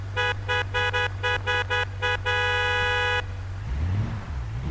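A car horn in the BeamNG.drive video game toots in a rapid series of short honks, then one long blast, loud over a steady low engine hum.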